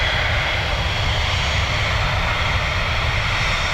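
Aircraft engines roar steadily at Dublin Airport on a busy day, a broad loud unbroken drone with no voices over it.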